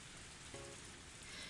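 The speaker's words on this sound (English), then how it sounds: "A torrential downpour started," A heavy downpour hisses as a dense, constant wash of rain, loud and unbroken throughout, with a faint brief tonal sound partway through.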